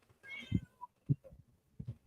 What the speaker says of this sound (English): That's my cat. She's talking to me.